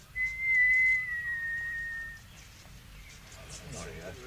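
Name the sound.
person whistling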